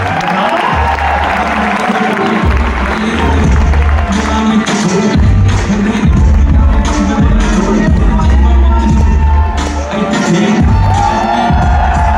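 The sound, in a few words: applause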